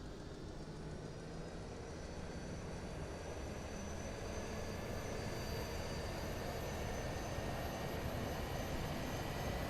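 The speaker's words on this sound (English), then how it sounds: "I always like to go back here and hear the APU start up." Auxiliary power unit of an Airbus A320neo in Microsoft Flight Simulator, a steady, faint mechanical whine and hum held at an even level throughout, with no talking.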